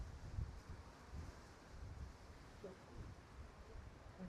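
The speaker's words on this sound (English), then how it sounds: "A lot of wind today." Gusty wind on a blustery morning in Southport, Queensland, rumbling low and steady across the microphone with a few stronger buffets, faint and continuous with no other clear sounds.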